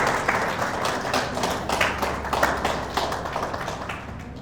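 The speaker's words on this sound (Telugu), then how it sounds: "అందరూ పాజిటివ్ మైండ్ సెట్ కోసం ఒకసారి గ్రాండ్ క్లాప్స్." An audience at a motivational talk bursts into applause, a dense, steady patter of many hands clapping at moderate loudness for several seconds with no voices on top.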